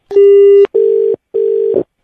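Telephone tones after a call is cut off: three steady beeps, the first longer, separated by short silences, clear and alone.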